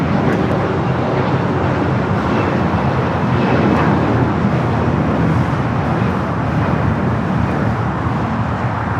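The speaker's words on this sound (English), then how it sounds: "Qantas Flight 11 about to land 24 right." A Qantas airliner lands on runway 24 right at Los Angeles International Airport after a flight from Sydney, with a steady, broad engine rumble that stays constant and moderately loud throughout.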